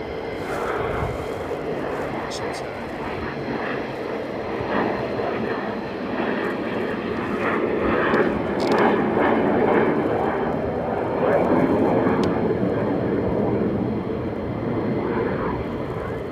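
A military jet flies over RAF Lakenheath, home to F-15 Strike Eagles, F-35 Lightning IIs and C-17s, producing a steady, broad engine roar that holds loud and swells slightly for the full length.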